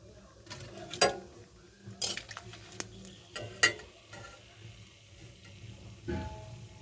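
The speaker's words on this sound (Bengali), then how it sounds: "তেজপাতা দারচিনি আর শুকনো লঙ্কা দিয়ে দিলাম" Bay leaf, cinnamon and dried chili sizzle in hot oil in a pan for a cabbage dish, a soft frying hiss broken by scattered clinks and scraping clatter from stirring, fairly quiet and close.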